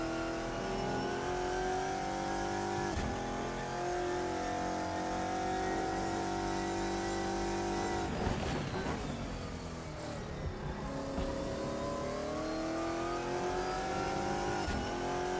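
GT1 race car in Assetto Corsa lapping Donington Park, its engine revving and droning continuously with gear changes and a brief dip midway, no talk.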